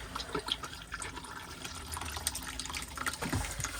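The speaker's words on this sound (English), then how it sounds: "press the blue button. You get a flow of water into the bowl" Water gushes and splashes continuously into the bowl of a caravan toilet at close range, with scattered drips and trickles throughout.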